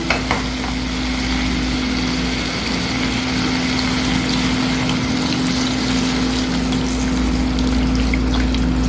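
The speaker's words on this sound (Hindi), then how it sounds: "अब हम इसमें डालेंगे 1 गिलास पानी।" A glass of water poured into a pan of browned chicken with green chilies sets off a loud, steady sizzling and bubbling hiss that runs unbroken and close for the whole stretch.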